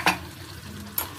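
Chicken pieces frying in a little oil while being stirred and covered, with a sharp clatter at the start and again near the end over a low steady sizzle.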